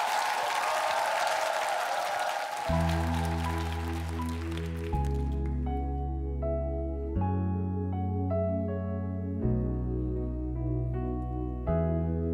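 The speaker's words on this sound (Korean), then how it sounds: "박수 청해 듣겠습니다." Applause from a TV music-show studio audience as a family steps up to sing, a broad crackling wash that fades under the piano and sustained chords of the song's introduction.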